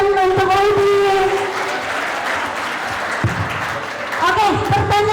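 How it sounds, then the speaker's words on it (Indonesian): Audience applause at a Ramadan school event, a dense wash of clapping filling the whole stretch, with a host's voice speaking over it at the start and again near the end. "Boleh beri tepuk tangan untuk Udin."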